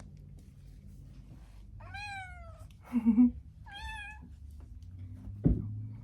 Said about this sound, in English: If there are doors closed, she will meow outside of them just to see what's going on.